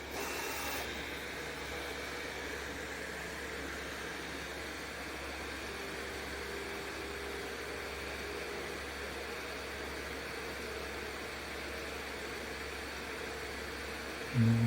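An Ender 5+ 3D printer with a Mercury One.1 ZeroG conversion runs a print, giving a steady, even hum and whir of motors and fans that holds level throughout, close and continuous with no voices.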